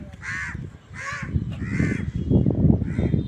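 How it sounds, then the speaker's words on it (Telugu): Crows caw in a big city, about four harsh calls in a loose rhythm, fairly close and clear over a low traffic-like rumble. "ఇక్కడ చాలా కాకులు ఉన్నాయి."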